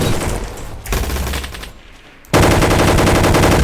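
Rapid automatic gunfire in the Roblox game Gunfight Arena, loud continuous bursts that pause briefly and resume, with no voices.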